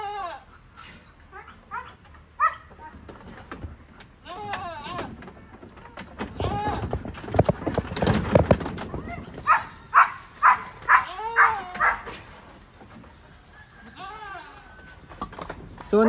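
Sheep and goats on a farm bleat repeatedly, several calls overlapping near and farther off, with people talking at the same time.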